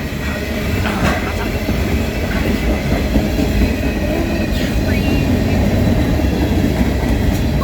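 Union Pacific freight train cars roll steadily past close by, with a continuous heavy rumble, rhythmic clickety-clack from the wheels and occasional faint metallic squeals.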